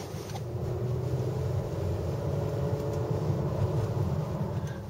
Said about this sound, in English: Now, of course, the engine's kicked back in.